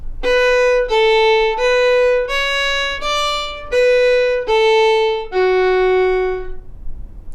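A solo fiddle plays the ending phrase of the reel "Drowsy Maggie", eight clear bowed notes in an even rhythm, the last held longer and fading, close and bright with no talk.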